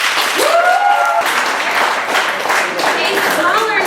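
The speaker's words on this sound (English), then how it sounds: "for those of you who disagree that there is a crisis and men are suffering from this 21st century gender subject formation, please applaud now." A debate audience applauds in a hall, a moderate burst of continuous clapping with a voice briefly speaking over it near the start and again at the end.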